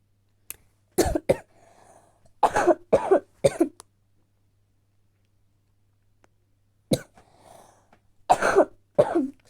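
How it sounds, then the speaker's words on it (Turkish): Several short, harsh coughs from one person, close and fairly loud, coming in two separate bursts with a quiet pause between them and no talking. "Kusura bakmayın arkadaşlar azıcık öksürüm"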